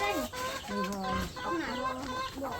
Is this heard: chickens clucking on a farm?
yes